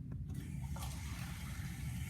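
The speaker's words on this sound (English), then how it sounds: "I'm gonna fill it full of water" Water pours steadily into a container with four vertical holes, a continuous close rushing and splashing with a faint click near the start and no talking.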